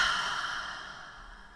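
One long, deep exhale after a full breath in, close to the microphone and slowly fading over a second and a half, with no talking.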